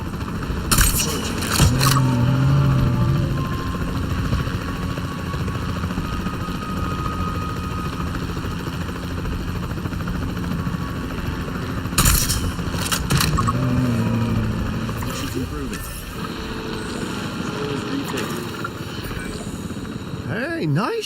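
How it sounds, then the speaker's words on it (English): Capture team helicopter in a dinosaur park video game, a continuous rotor drone throughout with a few sharp bursts and other game sounds layered over it. "The priority needs to be tranquilizing it with the capture team chopper"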